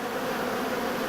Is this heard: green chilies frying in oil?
no